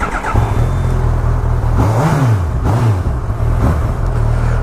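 A 2019 Honda CB1000R Plus motorcycle engine turns over and catches, then settles into a deep, steady idle broken by two short, swelling revs. It sounds loud and close, with no voices.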